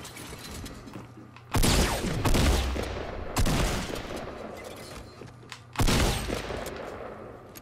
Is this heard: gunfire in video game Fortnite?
yes